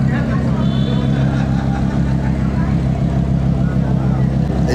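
A Porsche car engine drives off with a steady low rumble that holds loud and close throughout, while voices talk over it.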